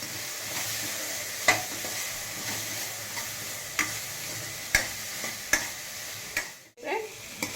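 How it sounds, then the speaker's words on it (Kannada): Tomatoes and onion fry in a salted pan for a stuffed-pepper gojju, giving a steady close sizzle with scattered sharp spoon clicks from stirring and no talking. "ಟೊಮೆಟೊ ಈರುಳ್ಳಿ ಸ್ವಲ್ಪ ಬಾಡಿದೆ ಚೆನ್ನಾಗಿ ಫ್ರೈ ಆಗಿದೆ"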